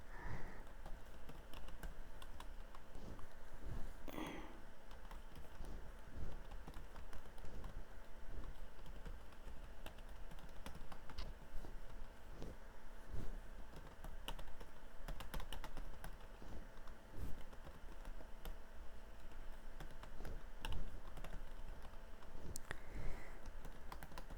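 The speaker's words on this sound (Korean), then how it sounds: "글씨 입력하실 때 오타 나지 않도록 잘 보시면서 써주시면 돼요" Steady computer keyboard typing of Korean text for a presentation-software exercise, soft continuous key clicks running through the whole stretch at a close, even level with no talk.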